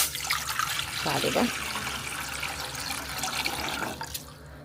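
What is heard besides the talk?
pouring water into a cooking pot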